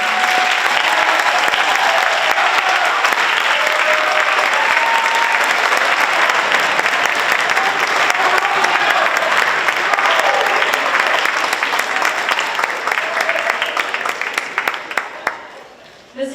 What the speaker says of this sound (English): Let's all give a round of applause for these wonderful musicians.